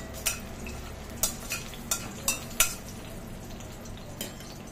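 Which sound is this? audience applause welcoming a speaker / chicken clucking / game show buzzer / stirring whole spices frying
stirring whole spices frying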